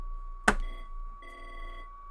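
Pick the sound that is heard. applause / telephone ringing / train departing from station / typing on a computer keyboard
telephone ringing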